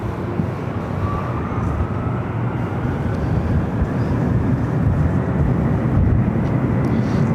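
An Airbus A380 on short final to runway 24 right at LAX gives off a loud, steady jet roar that swells slightly as it approaches and stays continuous throughout, with no talk.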